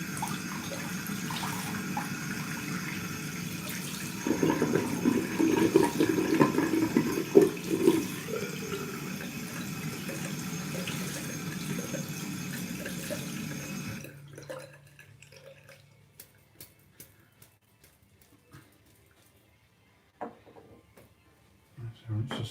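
Water runs steadily from a bathroom tap while a brush is rinsed, a continuous close splashing rush for about fourteen seconds that cuts off, followed by faint drips and small handling sounds.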